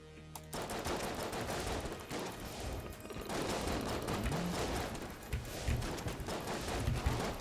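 Rapid gunfire from the Judge gun in the video game Enter the Gungeon, dense bursts of shots layered over busy game sound effects, continuous and fairly loud throughout.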